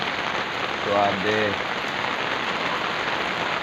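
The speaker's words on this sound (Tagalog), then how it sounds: "Uy, yung ulan." Steady rain pours throughout while someone briefly says something partway through.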